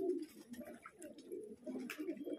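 Pigeons in a loft holding about fifty birds coo in low, repeated throaty rolls, close and moderately loud, with soft fluttering and faint chirps mixed in.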